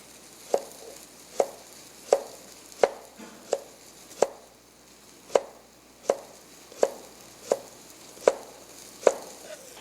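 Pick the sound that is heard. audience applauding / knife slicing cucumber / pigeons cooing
knife slicing cucumber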